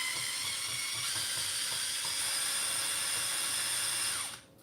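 A power drill removing screws from the front bumper of an XMaxx RC truck, a steady high whine running for about four seconds before stopping abruptly, close and fairly quiet.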